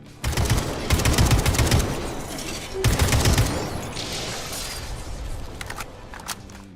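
A Kalash assault rifle fires in rapid automatic bursts in the Atomic Heart video game, two loud clattering strings of shots with a short gap between them, followed by quieter rattling and impact noise.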